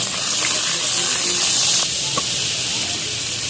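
Margarine sizzles in a hot cooking pan with a loud, steady, bright hiss that runs the whole way through, with a faint clink near the end.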